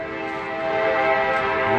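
A train sounds near a river in downtown Waterloo, Iowa, a sustained horn-like tone holding steady and swelling slightly louder, heard alone without voices.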